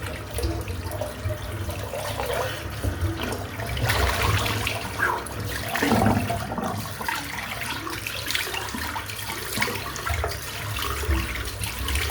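Running water pours and splashes steadily, with brief louder splashes of cold water on a face during a head shave, close by and without speech.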